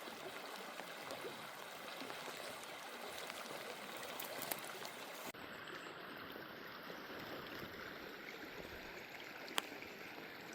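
A river in the Quinault area flows with a steady, faint rushing and trickling, a continuous wash of water with no voices.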